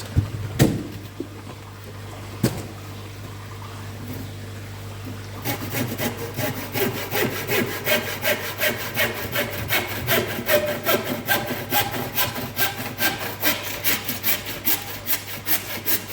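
Wood being trimmed with a handsaw at a koi pond build, a couple of sharp knocks first, then steady rhythmic back-and-forth sawing strokes, close and loud, with no talk.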